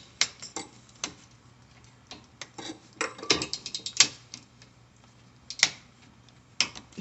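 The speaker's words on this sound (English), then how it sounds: "So basically turn it until you hear that clicking sound." Irregular mechanical clicks and ticks from a torque wrench tightening a brake bolt, some sharper than others, come in bursts over a faint steady hum with no talking.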